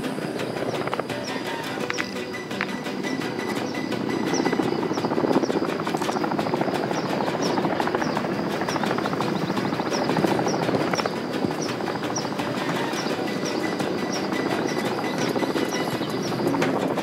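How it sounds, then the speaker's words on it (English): Armored attack helicopter hovering overhead in the video game Call of Duty: Modern Warfare 3, a steady loud rotor drone with rhythmic blade chop running throughout, close and unbroken. "Coney armored helo is overhead."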